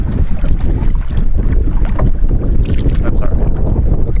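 Strong wind roars across the microphone as a boat pushes through whitecaps on a lake in Algonquin Park, a loud continuous rush with water slapping the hull and a brief spoken phrase underneath.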